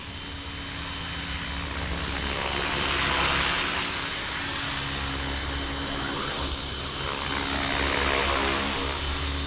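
An Align T-Rex 450 RC helicopter flies outdoors in light wind, its steady whining rotor and motor drone holding at a constant level throughout, with wind noise underneath.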